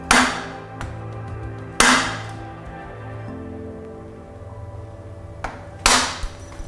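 A screwdriver is tapped to knock a chain master link off a sprocket, heard as a few sharp, loud metallic strikes spaced seconds apart, with a low ringing hum between them.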